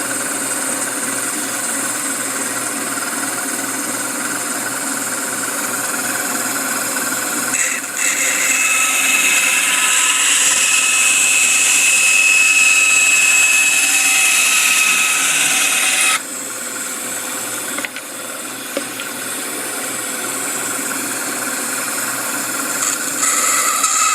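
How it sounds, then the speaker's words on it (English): Bandsaw runs steadily and cuts through wood for a cigar box guitar, a continuous high whine that grows louder and harsher midway during the cut, then eases back to the idling motor hum. "we're going to head over to the bandsaw"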